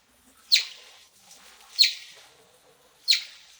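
Three evenly spaced, sharp bird chirps slowed to half speed through a cassette, each a low, drawn-out call falling off quickly, with faint pond and leaf ambience an octave lower in between.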